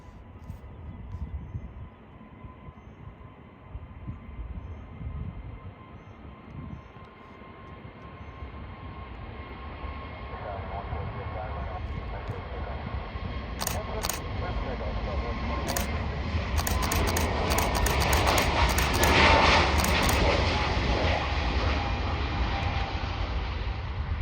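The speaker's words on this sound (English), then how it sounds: "here she comes, everybody, the Frontier A321neo" Frontier Airbus A321neo airliner taking off on a clear morning, a steady low rumble swelling into a loud, broad engine roar that builds and peaks near the end, with faint clicking and a voice speaking over it.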